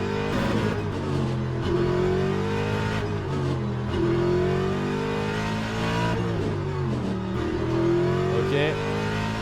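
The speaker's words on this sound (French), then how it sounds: "Vous voyez aussi à quel point j'accélère, à quel point je freine." A Ford Mustang race car in the racing game Le Mans Ultimate, on the Circuit des 24h, revs loudly and continuously, its engine pitch climbing and dropping repeatedly through gear changes.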